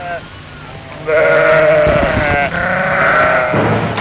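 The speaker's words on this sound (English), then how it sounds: "Sheep may safely graze no longer here." Sheep graze in a field on the outskirts of Turin and bleat several times in wavering, overlapping calls at close range, over faint background noise.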